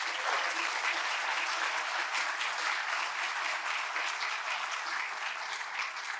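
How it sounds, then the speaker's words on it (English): Sustained, even applause from a large audience honoring talented student performers at the University of Houston-Downtown State of the University Address, steady and dense throughout without speech. "Let's give these talented students one more round of applause."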